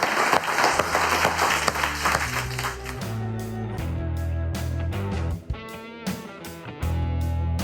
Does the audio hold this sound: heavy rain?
no